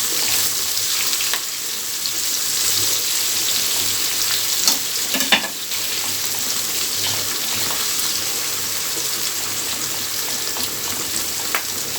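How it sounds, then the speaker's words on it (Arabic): Food sizzles steadily in hot oil as onions for Egyptian koshari fry in a home kitchen, a continuous crackling hiss with occasional stirring clinks and brief spikes of louder spatter. "اول ما تحطيه تحسي اللي هو طيره كده، وبعد كده هيتحمر معاكي وهينشف وهيبقى جميل."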